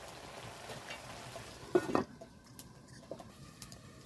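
A spoon stirs a covered pot of drumstick-flower vegetable curry with shrimp once the lid comes off, giving a brief scraping burst near the middle followed by faint sizzling and light clinks.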